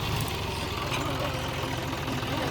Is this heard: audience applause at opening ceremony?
no